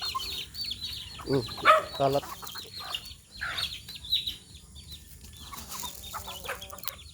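Backyard chickens clucking and squawking close by while being fed plain rice, short bursts scattered over the first half, with a voice speaking briefly among them.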